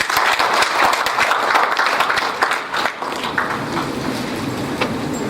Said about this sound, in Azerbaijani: Bunlara bir alqış düşür.